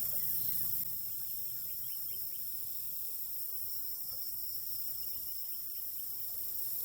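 Honeybees from a late-season caught swarm hum around a swarm box in a steady, soft, continuous drone, with a faint high insect-like buzz throughout and no talking.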